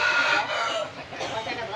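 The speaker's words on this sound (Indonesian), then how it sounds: "Ayam yang kelima Pak Bos punya Pak Asmuni, warna wongko kok." Rooster crowing with chickens clucking at a poultry gathering, a loud, continuous bright rasping call that fills the clip, with voices faintly underneath.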